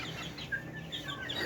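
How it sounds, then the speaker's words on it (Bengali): Chicken chicks peeping and clucking softly on a rooftop, a few short high calls close by over faint background hum. "এই যে আমাদের মুরগির বাচ্চা"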